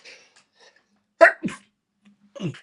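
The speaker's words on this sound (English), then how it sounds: "Excuse me, I'm going to sneeze." A single close sneeze bursts out with a sharp intake and explosive release, followed by a short breathy sound, in an otherwise quiet room.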